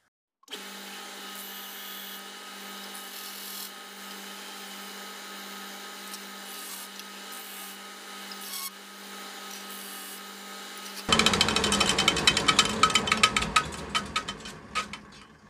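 Natural wood slingshot frame being sanded, a steady power-tool whine for several seconds giving way to louder, rougher abrasive scraping near the end, close up with no talking.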